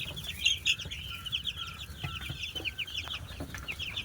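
Young country hens and layer chicks cluck and peep steadily at a poultry farm, with a busy chorus of overlapping high chirps close by and no talking.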